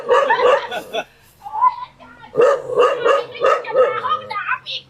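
A dog barks in short, loud bursts close by, mixed with people talking nearby.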